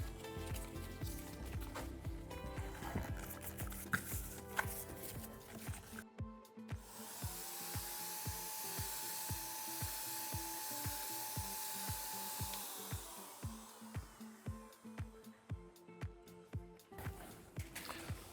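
A Wagner paint sprayer coats a flight simulator panel with a steady hiss lasting about five seconds, set between rhythmic mechanical clicking and tapping.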